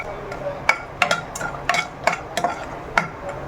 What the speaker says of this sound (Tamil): இந்த கேஷ்யூ நட்ஸ் வந்து கொஞ்சம் லைட்டாக ஃப்ரை பண்ணிக்கோங்க